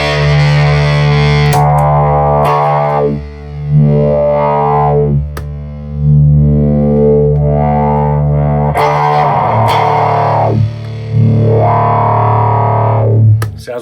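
Loud, heavily distorted guitar through a 1970s Morley Power Wah Fuzz pedal, sustained fuzzy notes swept by the wah into vocal, sliding tones with short pauses between phrases.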